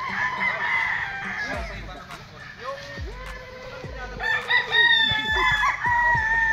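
A pure Boston yellow-legged gamefowl rooster crows at a game farm, with several drawn-out crows and other fowl calling nearby while someone talks over them.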